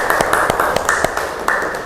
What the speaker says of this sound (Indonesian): kita berikan tepuk tangan untuk kalian semuanya